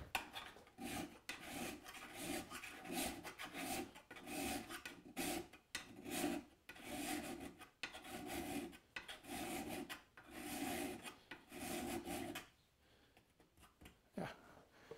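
A hand scraper edge is filed and reground while clamped in a bench vise: steady, rhythmic rasping strokes, close and distinct, repeating for about twelve seconds before stopping.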